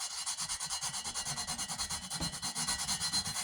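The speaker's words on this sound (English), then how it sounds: "I'm going to touch that up just a little bit here with some sandpaper" Sandpaper scrubs rust off a metal part of a two-mantle Coleman lantern in quick, steady back-and-forth strokes, soft and close, with no talk.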